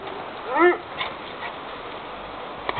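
A small dog gives one short, close whimpering yip, followed by faint scattered sounds in a quiet outdoor grassy setting.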